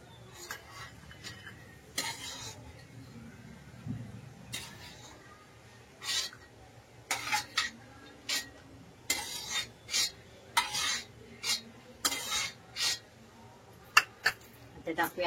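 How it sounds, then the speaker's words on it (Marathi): Cashews frying in hot oil in a pan, a spoon repeatedly stirring and scraping the metal in short rhythmic bursts over a soft sizzle, growing more frequent toward the end. "तेल गरम झाले, पहिले आपण काजू फ्राय करून घेऊया।"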